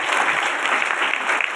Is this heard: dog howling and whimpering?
no